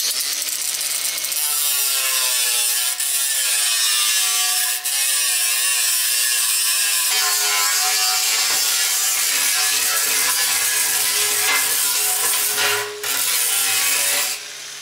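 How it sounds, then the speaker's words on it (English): A grinder smooths a sharp metal seam on a burn chamber for a Dragon V2 build, a loud, steady grinding whine with pitch swells and dips as it works the seam, close and continuous. "This seam right here is going to create a sharp point that could cut into the copper, so I'm just going to grind it smooth."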